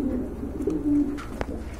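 Budapest high flyer pigeons coo nearby, a few soft throaty rolling calls with a brief sharper flutter near the end, no talking.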